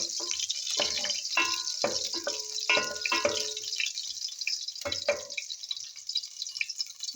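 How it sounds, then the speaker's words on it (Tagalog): Garlic sautéing in hot cooking oil for a Filipino fish paksiw, a close crackling sizzle with bursts of sputtering and stirring clatter, fading toward the end. "So mainit na itong mantika, maggigisa ako ng bawang."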